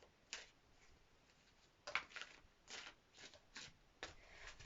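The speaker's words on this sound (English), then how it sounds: "I'm just going to give them a quick little shuffle now" Soft riffling and slapping of tarot cards being shuffled, several short bursts in an irregular rhythm, close and fairly quiet.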